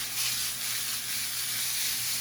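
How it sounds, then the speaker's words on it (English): Salmon searing in a hot oiled pan, a steady bright sizzle and hiss that holds close and fairly loud throughout, with no talking. "I want to keep this pan nice and hot, because I want it to get that salmon nice and crispy"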